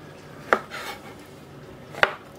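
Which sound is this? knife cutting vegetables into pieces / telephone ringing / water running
knife cutting vegetables into pieces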